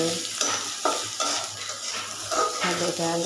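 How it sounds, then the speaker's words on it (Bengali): Lentils (dal) and eggs cooking in a pan, with steady stirring, scraping and clinking of a utensil against the pan over a soft continuous sizzle, close and moderately loud, with brief voices in the background. "ডাল আর ডিম রান্না করতেছি"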